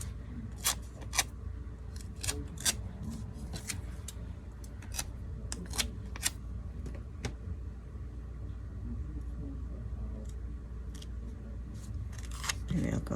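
Scissors snipping through paper or fabric while trimming, a run of sharp, closely spaced clicks and cuts over a low steady room hum, with a few louder snips near the end.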